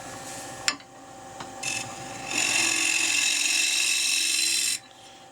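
A 1-inch bowl scraper rasps against a small cherry bowl spinning on a lathe, a brief tap and short touches first, then a sustained bright scraping for about two seconds before it stops.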